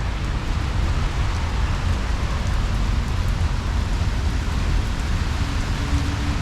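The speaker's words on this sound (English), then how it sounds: "The mortal enemy of the tourist, heavy rain." Heavy rain pours down steadily on a Helsinki street near the art museum, a dense, constant hiss and spatter that stays loud and even throughout, with no voices.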